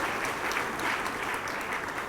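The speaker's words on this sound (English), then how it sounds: "Can we welcome them once again with a round of applause?" Audience applause at a regional cocoa research symposium welcoming distinguished guests at the high table: a continuous, dense wash of clapping from a large room, steady from start to finish.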